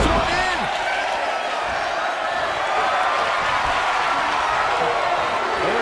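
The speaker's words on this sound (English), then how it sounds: "listen to this crowd counting this one in." Arena crowd noise from a WWE 2K24 Royal Rumble match, a dense steady roar of fans counting along to a pin, loud and continuous throughout.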